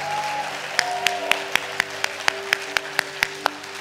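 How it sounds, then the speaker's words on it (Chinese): A church congregation at a Sunday service applauding newcomers, a broad sustained clapping crowd with a few sharp louder claps standing out at regular intervals, a low steady hum underneath. "让我们给他们一个热烈的掌声"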